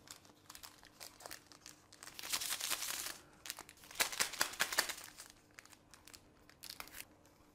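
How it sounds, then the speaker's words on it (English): Seasoning powder packets, ten to twelve of them, are shaken, torn open at one end and emptied while preparing a carrot raisin salad; loud bursts of paper crinkling and tearing come close up, with quieter rustles between. "Shake them down, get all the powder in one end, tear off the end,"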